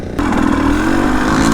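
A HengJian Z300 S7 Chinese two-stroke motorcycle engine while riding, kicking in abruptly after a brief quieter moment, then a loud, steady buzzing drone held up close.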